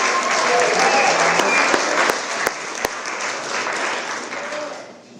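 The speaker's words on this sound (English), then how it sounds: "Let's have a big round of applause for the Ballers One." An audience at a cabaret show in Piper's Opera House, Virginia City, Nevada, breaks into dense, loud applause with a few sharp isolated claps, which tapers off toward the end.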